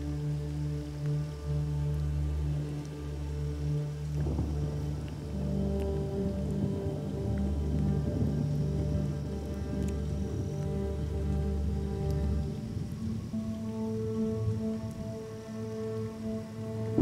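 Steady rain patters and hisses across a reptile-rich natural landscape, a continuous wash of droplets with low humming tones underneath, moderately quiet and unbroken throughout.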